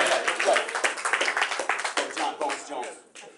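A game show studio audience, at a Family Feud taping, claps in a dense, steady round of applause that tapers off toward the end while a host speaks over it.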